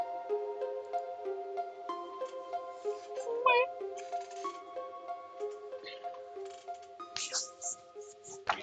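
In the SCP: Secret Laboratory game, a player's voice imitates a cat, giving one drawn-out meow over a steady tonal game soundscape, with other voices heard faintly.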